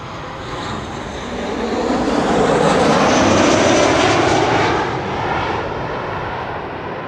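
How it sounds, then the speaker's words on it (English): A 26-year-old KLM airliner arriving at Amsterdam Schiphol from Milan gives a loud, broad engine roar that swells over a few seconds, peaks mid-pass, then eases slightly as it passes by. "So this is KLM flight 1614, arriving from Milan"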